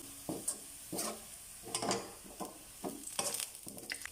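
Shallots frying in hot oil in a kitchen, crackling and sizzling in bursts as they are stirred, with light scraping of a utensil against the pan, close and fairly quiet.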